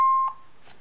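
A Honeywell Vista alarm panel gives one sharp, loud electronic beep as it is armed with a key switch, then falls quiet apart from faint background noise.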